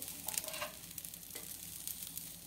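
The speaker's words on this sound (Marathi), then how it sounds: "हे जे हरभरे आहे हिरवे ते घालायचे आहे तव्यावरती आणि भाजून घ्यायचे आहेत खमंग" Green chickpeas roast in a little oil on a hot griddle, giving a steady close sizzle with faint stirring scrapes over about two and a half seconds, no voices.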